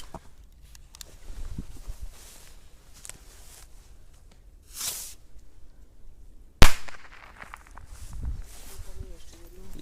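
A single sharp, loud firecracker banger explodes outdoors amid scattered quieter pops and shuffling, with people talking before and after the blast.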